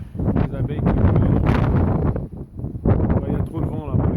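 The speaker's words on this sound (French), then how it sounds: "il y a beaucoup de vent aujourd'hui" Strong wind gusting outdoors in a permaculture garden in France, a loud continuous buffeting roar of wind against the microphone, with someone speaking over it throughout.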